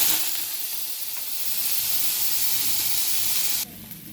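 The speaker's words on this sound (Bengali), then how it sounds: "এবার আমি দিয়ে দেব পেঁয়াজ।" Chopped onion sizzles in hot oil in a pan while masoor dal with curry leaves is being made, a steady close hiss that runs evenly, then drops sharply quieter near the end.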